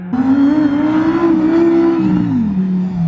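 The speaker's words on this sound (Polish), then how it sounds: "Wydaje mi się, że to jest też najgłośniejszy hurakan." Lamborghini Huracán engine revving hard as it accelerates, a loud close roar rising in pitch, holding, then dropping as it shifts.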